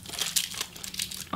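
Candy wrapper crinkling as a cherry candy is peeled free, a run of close, crisp crackles with a sharper burst near the end, no talking over it.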